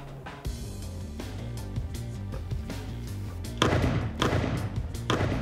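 A bamboo gun barrel fires shots at a target less than 50 meters away: several dull, heavy thumps spaced a second or so apart, one louder than the rest, over steady background music.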